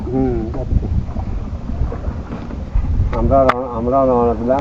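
A boat moves across water with a steady low engine or wind rumble, while voices talk over it throughout.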